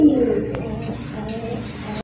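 A pair of large Rajgolla pigeons coos in low, rolling phrases close by, fading slightly over a couple of seconds with a quiet background.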